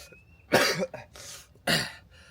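Two harsh, chesty coughs a second apart, close and fairly loud, with a softer throat sound between them.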